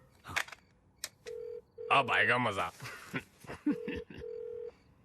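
Steady ringing tones of a telephone line sound in bursts after dialing, interrupted by someone speaking loudly over them, with a few clicks at the start.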